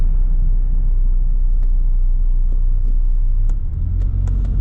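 An old car drives through an English town with a steady loud engine rumble and road noise from inside the cabin, with a few faint clicks and knocks.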